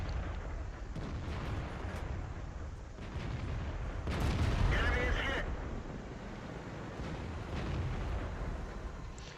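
A tier 8 M46 Patton KR medium tank fires its main gun in a tank video game, a loud booming blast in the middle of the clip over steady engine and battle rumble.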